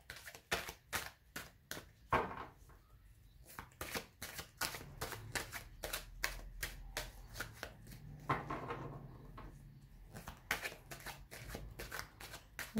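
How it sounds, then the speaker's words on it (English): Tarot cards being shuffled by hand in a quiet room, a rapid series of crisp riffling flicks in short bursts separated by brief pauses. "Wish I can shuffle like the other readers."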